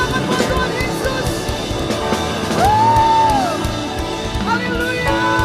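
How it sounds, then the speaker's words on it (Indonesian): Church congregation clapping and cheering during worship, a continuous loud crowd noise with shouts and whoops rising over it, and a sustained voice calling out midway. "Tepuk tangan buat Tuhan Yesus."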